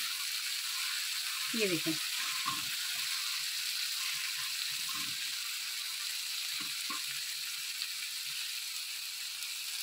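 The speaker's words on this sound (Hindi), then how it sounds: "अब इसी यहीं पे तवे के ऊपर ही हम इसको बिल्कुल छोटा छोटा कर लेंगे।" Chicken sizzling on a hot tawa in a shawarma recipe, a steady hiss of frying broken by scraping, chopping clatter, with someone speaking briefly.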